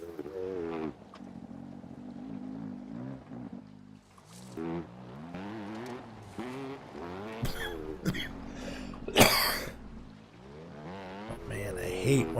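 A man coughs a few times, in short harsh bursts near the end, after a stretch of his own close, casual talk while playing the survival game SCUM.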